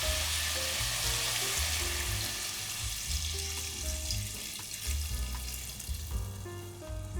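Pork for salt adobo sizzles loudly in a hot pan as water is poured in, a steady, dense crackle and hiss running the whole time with low bubbling underneath.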